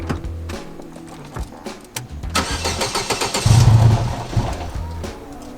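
In a garage, a car engine cranks for a couple of seconds, then catches and fires up loudly close by, revving briefly before settling into a rough running idle.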